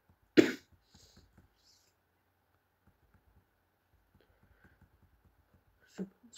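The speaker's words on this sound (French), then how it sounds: "je tousse un peu" A person coughs once sharply and close in an otherwise quiet room, then coughs again about six seconds later.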